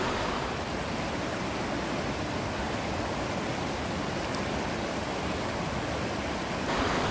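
A river flowing at night in Mexico, a dense, steady rushing of water that fills the whole stretch evenly, loud and continuous with no voices.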